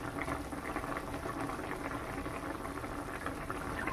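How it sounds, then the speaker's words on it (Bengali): A pot of fish curry jhol made with chara pona fish bubbles at a steady rolling boil, a continuous soft gurgling and popping close by with no voices. "মাছের ঝোলটা খুব ভালোভাবে ফুটেছে।"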